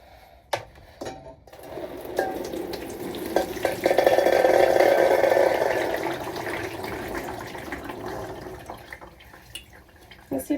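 Water drains from a container of soaked Oregon giant sugar snap and purple snow peas, a swelling pouring rush that peaks midway and tapers off, framed by a few clunks and handling noises.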